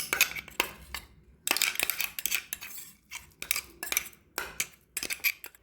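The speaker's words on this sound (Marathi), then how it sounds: "मी एका बाउलमध्ये याला काढून घेते।" Ground pea and spinach paste for a crispy snack being scraped from a pot into a bowl with a metal spoon, a series of close clinks and scrapes in irregular bursts with brief pauses.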